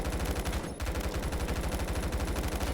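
G36 rifle firing in Roblox Phantom Forces: rapid full-auto bursts of sharp, evenly spaced shots, broken by a brief pause before the stream resumes, loud and close with no talking.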